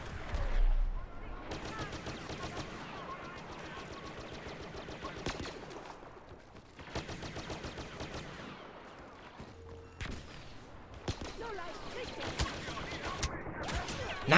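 Gunfire from the Star Wars Battlefront video game, with repeated blaster-like shots and bursts from a pistol among other weapons, coming in clusters with brief lulls in between.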